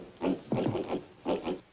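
Farm pigs that got into the corn give three quick, close grunting oinks in a short rhythmic run with brief pauses between them, heard alone, in the 1960s black-and-white TV sitcom The Beverly Hillbillies.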